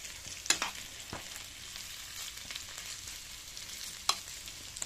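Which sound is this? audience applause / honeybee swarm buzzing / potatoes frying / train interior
potatoes frying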